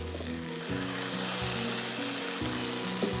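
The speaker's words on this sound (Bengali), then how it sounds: "আমি একটু নেড়ে দিচ্ছি।" Beef tehari sizzles steadily in a hot pot as it is stirred, a continuous close frying hiss with faint tonal hum underneath and no talking.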